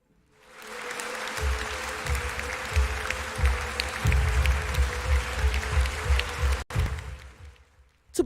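Audience applause at a televised debate playoff swells quickly into sustained, dense clapping that holds for several seconds and then tapers off near the end, with no talking over it.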